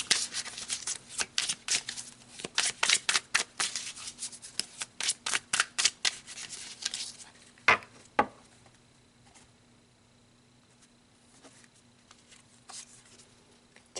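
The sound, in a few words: shuffling tarot cards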